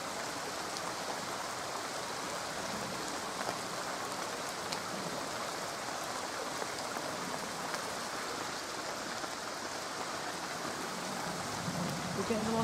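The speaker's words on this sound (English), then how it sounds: "We're getting a lot of background noise tonight because it's raining" Steady rain falls through forest trees at night, a dense, even hiss of drops on leaves and ground that fills the whole stretch without pause.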